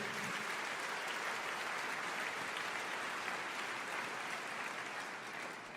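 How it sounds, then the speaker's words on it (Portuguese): A church congregation applauds, producing a thick, steady wash of clapping that fills the space at an even loudness and fades slightly at the end. "aplauda ao Senhor, meu querido."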